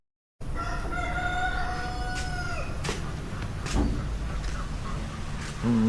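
A rooster crows repeatedly by the seaside among free-roaming chickens and ducks. The drawn-out calls sound at a moderate distance over a steady outdoor background hiss, with occasional clucks and other bird sounds.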